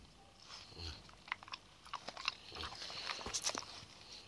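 A dog chews and crunches on a garlic clove up close, with a scatter of irregular biting and crunching sounds and no talking.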